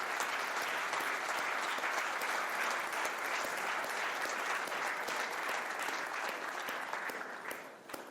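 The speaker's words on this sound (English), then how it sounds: "Let's give her a round of applause." An audience at a men's leadership summit applauds as a woman leaves the room, thick continuous clapping at steady volume for several seconds, then fading quickly at the end.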